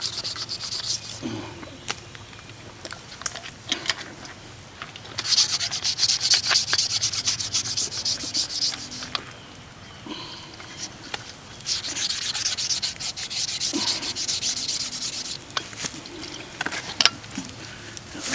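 Horsetail reed rubbed along wood as fine natural sandpaper, outdoors in the woods: repeated rasping strokes in bursts, moderately close and steady, with quieter pauses between passes and no talking.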